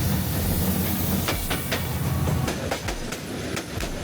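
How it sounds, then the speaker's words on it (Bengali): Train running through Lawachara forest, a steady loud rumble of wheels on rails with rhythmic clickety-clack hits over a continuous roar and hiss, passing close by. "লাওয়াছড়ার বনচিরে ট্রেন চলার দৃশ্য উপভোগ করতে প্রতিদিন জড়ো হয় শত মানুষ।"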